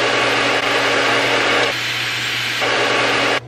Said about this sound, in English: And to compare, here's the sound of the Alexsis dryer